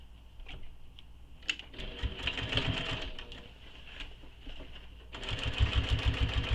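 A sewing machine stitches across the anchor of a fabric toy, running in quick mechanical bursts of rapid needle clatter with short pauses between them, close and fairly quiet.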